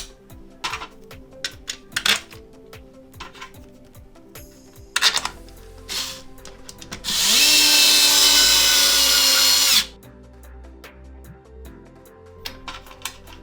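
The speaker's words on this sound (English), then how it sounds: "Screw in all the screws I took out before, so the 4 main body screws" A screwdriver with a T10 bit drives the four main body screws back into an Xbox One X console, giving scattered clicks and ratchets, then a few seconds of loud continuous whirring before quiet ticks return.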